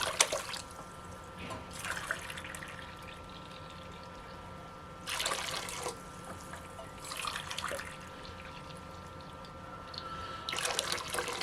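Hot water pours into a pot in bursts of splashing flow separated by quieter pauses, three cups adding up to 750 grams of water for a coconut syrup cake.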